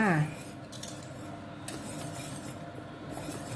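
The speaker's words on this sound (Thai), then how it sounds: "ตัวนี้เราก็จะคนไม่หยุดนะคะ เดี๋ยวก้นหม้อจะไหม้ได้จ้า" A pudding mixture is stirred continuously in a pot on the stove, a steady scraping and rubbing of utensil against the pot that runs unbroken for several seconds at close range, with no talk over it.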